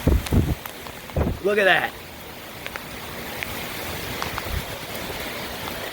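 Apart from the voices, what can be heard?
heavy rain and wind during Tropical Storm Cristobal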